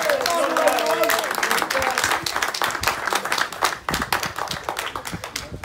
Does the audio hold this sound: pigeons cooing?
no